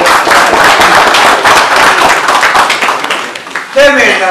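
Dense, loud applause for two generals at a veterans' association assembly, a crowd clapping steadily throughout before a voice begins speaking near the end.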